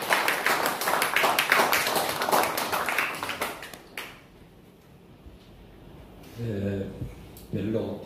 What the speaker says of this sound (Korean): 나오실 때 박수 부탁드리겠습니다.